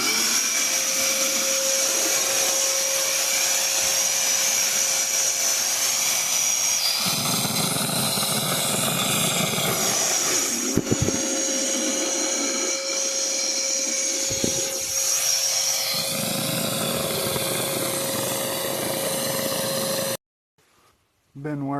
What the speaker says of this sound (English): Today I am using PowerTex by Wagner. So let's cut this loud thing on.